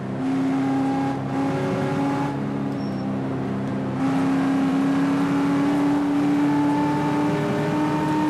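Race cars in the VR racing game Motorsport Revolution give off a steady, close engine drone with a sustained harmonic whine that rises and falls slightly as they race, continuous throughout with no talking.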